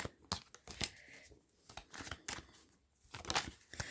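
Quick papery riffling and snapping of tarot cards being shuffled, in short bursts with brief quiet gaps, close and fairly soft.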